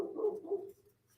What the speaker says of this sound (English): If anybody hears my puppy upstairs barking, that is my puppy upstairs barking.